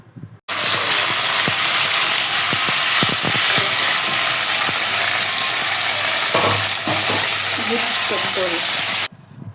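Onion, cardamom, cinnamon and bay leaf fry in a pan with a loud, continuous sizzling hiss, broken by scattered clicks and scrapes of a utensil, starting abruptly and cutting off near the end.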